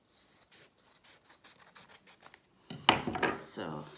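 Scissors cut through folded cloth for a homemade no-sew face mask, giving a quiet, close, steady run of short rasping snips that ends in a louder, fuller burst of sound.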